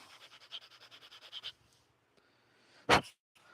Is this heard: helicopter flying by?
no